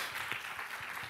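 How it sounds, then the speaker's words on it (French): An audience at a panel discussion applauds, a soft, steady patter of many hands clapping at a moderate distance for just over a second. "applaudissez-vous"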